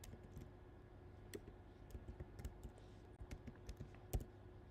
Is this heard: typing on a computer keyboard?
yes